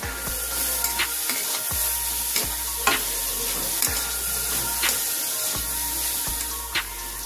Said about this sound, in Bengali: এবারে বাঁধাকপির সাথে মশলাটা ভালো করে ভেজে নেবো